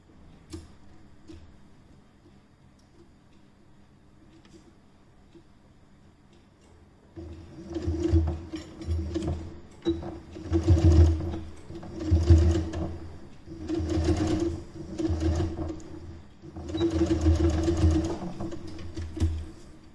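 A sewing machine stitching a quilted heart neck pattern for clothing, quiet at first, then steady rhythmic whirring runs in repeated bursts with brief pauses, close and moderately loud.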